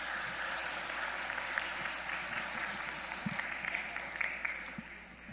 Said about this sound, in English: So another round of applause for committing to this and doing an amazing job.